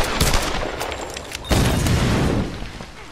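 Pistol shots in Tomb Raider Definitive Edition crack out in a loose series of sharp bursts, with a heavier volley midway, set against dense game ambience and no speech.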